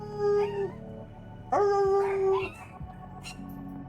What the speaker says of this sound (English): Sorry for the dogs, by the way.